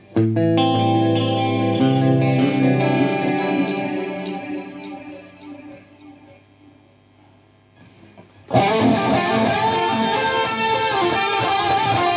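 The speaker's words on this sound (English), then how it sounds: "major echo." Electric guitar run through a Marshall JFX1 effects unit with echo, played via a Marshall 9100 power amp and JMP1 preamp; chords ring out with repeating echoes that decay, then a loud strummed passage bursts in near the end.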